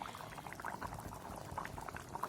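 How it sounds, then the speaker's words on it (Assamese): Chicken meat simmers in hot water in a pan for an Assamese chicken curry, giving off a soft, irregular bubbling and gurgling that stays fairly quiet and close. "এতিয়া এই মাংসখিনি উতলিবলৈ ধৰিছে"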